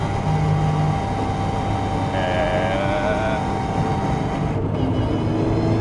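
Steady, loud in-cabin engine drone from a vintage Toyota Sports 800 driving up mountain roads in Hakone, a continuous hum with a tone that rises and falls slightly as it runs.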